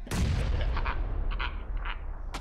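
A grenade explodes in PUBG gameplay, a loud, deep blast whose rumbling roar fills the whole moment and slowly decays, with faint clicks and small sounds scattered over it.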